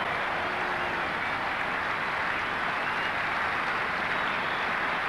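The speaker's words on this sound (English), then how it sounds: "getting a very warm round of applause from this excellent crowd" Steady, even applause from a cricket crowd greeting a batsman's fifty, a continuous wash of distant clapping with no clear individual claps and no voices on top.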